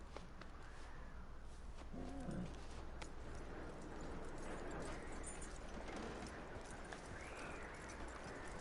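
Horse hooves clip-clopping at a steady walking pace in the Red Dead Redemption 2 video game, moderately close and continuous over low ambient outdoor noise.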